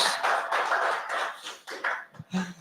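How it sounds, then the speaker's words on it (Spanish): Church congregation at an evening service in Querétaro applauding, a dense burst of many hands clapping that thins out and breaks into a few scattered claps and murmurs near the end. "Le damos un aplauso al Señor por la vida de sus hijos"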